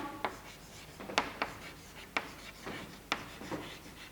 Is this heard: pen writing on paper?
yes